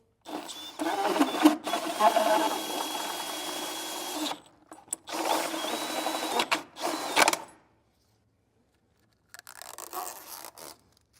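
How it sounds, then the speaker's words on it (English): A 2-inch hole saw on a drill cutting a speaker hole in a Harley-Davidson Road Glide or Street Glide fairing, heard as two loud whirring bursts of drilling with brief stops, then quieter faint handling noise after a pause. "center our 2-inch hole saw in the circle"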